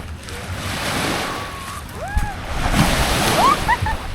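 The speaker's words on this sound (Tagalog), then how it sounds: "Grabe, ang ganda ng alon." Ocean surf rolls onto the shore in a steady washing roar with wind buffeting the microphone, while birds chirp and people talk faintly in the background.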